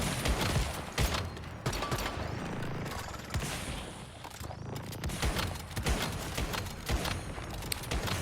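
Rapid bursts of gunfire fill the clip as a player shoots a boss in the survival shooter game Once Human, with shots cracking steadily over a dense layer of game noise.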